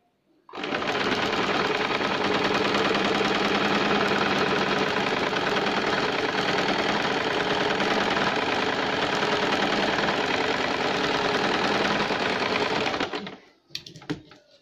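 A sewing machine stitching the sleeve of a baby girl's shirt runs loud and continuous for about twelve seconds with a fast, even rattling hum, then stops abruptly and leaves a few faint handling clicks.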